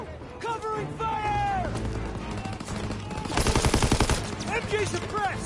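Rapid bursts of rifle and machine-gun fire crackle in a Call of Duty WW2 battle as covering fire is laid down, close and loud, with shouted voices over the shooting and a dense volley near the end.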